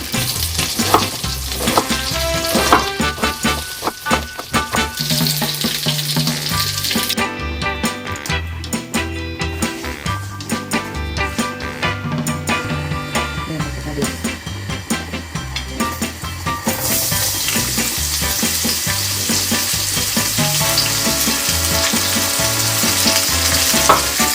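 Sausages for bangers and gravy frying in a pan, a loud, steady crackling sizzle close up that runs throughout with a brief change in texture midway, no voices.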